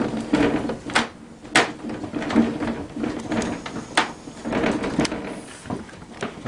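Wiggling and pushing a TaoTao CY50B scooter's front nose assembly down onto the steering column gives close, repeated plastic clunks and knocks at an irregular rhythm.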